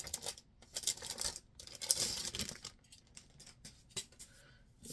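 A little plastic bag being handled up close, with quiet crinkles, rustles and scratchy bursts in irregular bunches and brief pauses between them.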